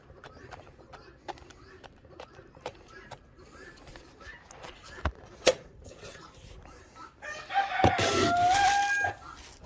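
Farm chickens cluck in short scattered calls around feeding time, with a louder rooster crow rising near the end amid light mechanical clatter.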